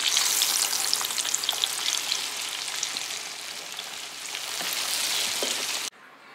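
Flour cooks in a pan over low heat, giving a steady close sizzle with scattered crackles and light stirring until it cuts off near the end.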